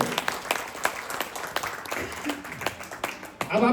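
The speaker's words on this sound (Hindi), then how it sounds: "एक बार जोरदार तालियां होना चाहिए सबमिट के लिए।" An audience at a Summit staking training seminar in Ranchi, Jharkhand breaks into brisk, scattered applause that fills the room, with a voice talking over the clapping.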